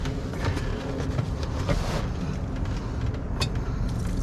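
Abandoned 1978 Dodge Ramcharger, sitting 17 years, cranking over with gasoline poured into the carburetor, a rough continuous churning engine rumble that does not catch, close and fairly loud.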